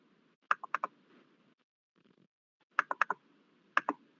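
Typing on a computer keyboard: a few short bursts of crisp, close key clicks separated by pauses, each burst holding three or four quick taps.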